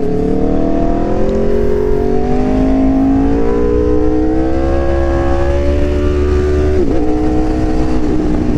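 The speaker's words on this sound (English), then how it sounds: "let me ride the bike real quick" An Aprilia RSV4 1100 Factory motorcycle being ridden, its loud engine note rising steadily in pitch as it accelerates, then dipping briefly at a gear shift before pulling on, heavy wind rumble underneath.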